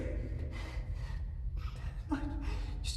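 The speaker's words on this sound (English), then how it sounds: "Just stop breathing loud." Loud, close breathing with gasps and snorting inhales, several uneven breaths in quick succession, no talk over them.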